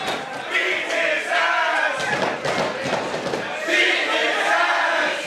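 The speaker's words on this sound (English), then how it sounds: "Daddy is getting a negative response from the crowd." Wrestling crowd at an indie show reacts negatively to a heel, with a rowdy swell of jeering voices and thumps rising and falling in waves, loud and close.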